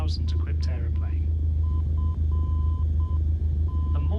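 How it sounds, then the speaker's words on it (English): The Morse code identifier of the Seaford VOR beacon, sent as Sierra Foxtrot Delta in Microsoft Flight Simulator, plays as a clear, steady tone in short and long beeps over a low engine drone, with a voice talking at the start. "The Morse code you can hear is the Seaford VOR. It's transmitting Sierra Foxtrot Delta in Morse code"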